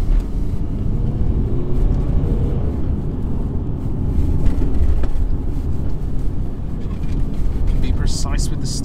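A 2015 Mercedes C220 saloon driven along a back road, its steady engine and road rumble droning continuously from inside the cabin, with a voice briefly speaking near the end.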